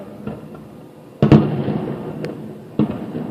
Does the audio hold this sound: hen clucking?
no